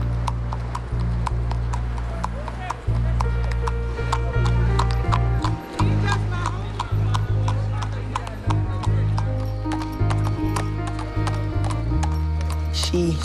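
Horse hooves clip-clop steadily and close at hand on an urban street, a continuous rhythmic beat running under ongoing talk and a low droning background, with an occasional whinny.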